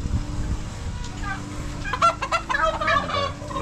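Backyard chickens at home give scattered clucks and fowl calls that grow busier in the second half, close and moderately loud over a steady low rumble.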